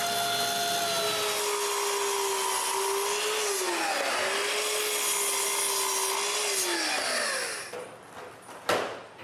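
A power saw cuts 3-inch wooden strips for a shelf torsion box, a loud steady whining drone with pitch dips under load for several seconds, then spinning down with a few knocks.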